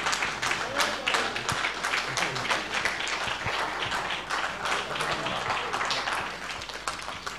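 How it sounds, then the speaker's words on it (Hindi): An audience at a classical music performance applauds, standing, to honour the performer. The clapping is dense and sustained at a moderate level with some crowd noise mixed in, and it continues evenly across the whole clip. "जोरदार तालियों के साथ महाराज जी का सम्मान हम सबको खड़े होकर करना चाहिए।"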